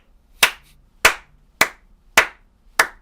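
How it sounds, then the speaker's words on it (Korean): Five sharp, evenly spaced claps ring out one after another, close and loud, with quiet gaps between them and no talking, more like a single person clapping than a crowd. "박수 한번 주세요"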